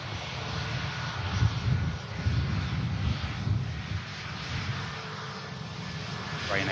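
A Norse airliner approaching Manchester Airport, its engines a steady low rumble with some wind noise, held at a moderate distance the whole way through, with voices faintly present underneath.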